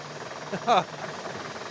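Helicopter cabin noise: a steady low engine and rotor drone running throughout, with a brief voice-like burst partway through.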